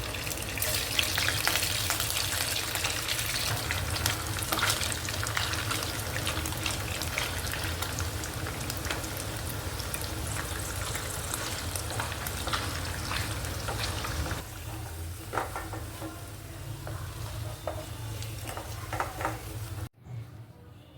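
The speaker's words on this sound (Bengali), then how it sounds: "আমার পনিরটা ভেজে আমি রেখে দিয়েছি, পনির ভাজা হয়ে গেছে।" Paneer cubes frying in ghee over a low gas flame: a steady close sizzle and bubbling crackle continues for about twenty seconds, easing slightly in the last stretch before cutting off, with no talk.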